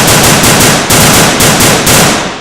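Loud, rapid bursts of gunfire in a comedy skit about hunting, sustained automatic-style shots repeating in a steady rhythm with no talking.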